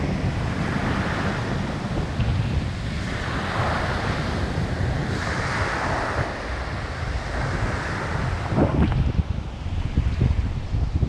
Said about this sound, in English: Watch those waves.